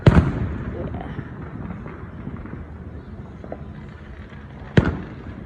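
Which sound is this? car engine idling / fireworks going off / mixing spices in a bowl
fireworks going off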